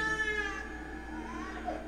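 Thin, wavering baby noises from a TV show scene, a close whimpering cry with sliding pitch that breaks into short sobs.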